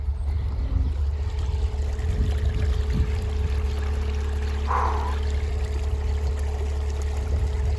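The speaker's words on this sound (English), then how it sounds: "Bubbling brook" Storm runoff water after a storm runs toward a drain like a bubbling brook, a steady rushing and trickling wash that continues unbroken and fairly close, with no voices.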